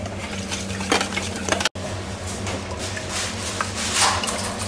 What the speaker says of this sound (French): Ensuite on va battre les œufs.